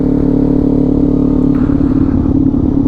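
Kawasaki Z400 sport bike with a Leo Vinci aftermarket exhaust revving loud and close, a throaty rising engine note with rumbling pulses, ridden behind a tractor.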